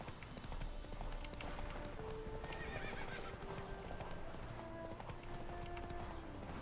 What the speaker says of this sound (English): that's a lot of horses